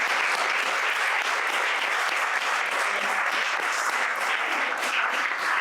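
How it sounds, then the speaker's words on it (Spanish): An audience at a talk on women who built democracy in Huelva breaks into sustained, dense, loud applause that holds steady throughout without pause. "Os pido un aplauso para todos."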